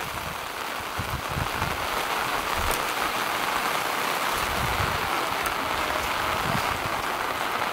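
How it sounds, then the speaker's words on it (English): Heavy rain pours steadily at Borobudur Temple in Java, Indonesia, a loud, dense hiss of drops on stone with no pauses throughout. "Awfully rainy, huh, Sylvie?"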